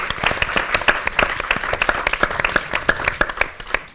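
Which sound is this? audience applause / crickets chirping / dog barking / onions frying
audience applause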